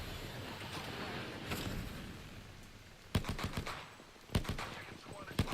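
Gunfire in the survival game Don't Panic: a few sharp, separate gunshots cracking out over a rumbling, wind-like background, close and loud against a quieter bed, with talk around them.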